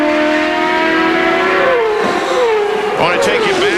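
CART Indy race cars brake hard into turn one at Road America, with loud high engine tones dropping in pitch through downshifts, heard close alongside a commentator talking.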